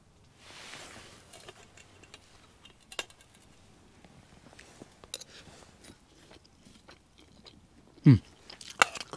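Quiet, close chewing and soft crunching of fried rice eaten with grilled chicken at an evening meal, a few louder bites near the end.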